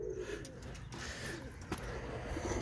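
Young Miro Resasi pigeons coo in low, throaty bursts at close range inside a loft. The coos run steadily over a dense background of rustling and low hum.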